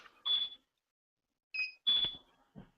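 Short high electronic beeps from a sonar sensor sound in a few separate bursts, spaced irregularly with quiet gaps between them.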